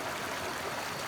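Fast river water at Ranbang Khola rushes in a steady, broadband wash, faint and continuous with no voices.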